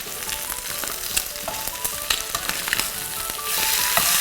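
Streaky bacon fries in a pan with a steady close sizzle, crackling pops and a few stirring scrapes, continuous and louder toward the end with no talk.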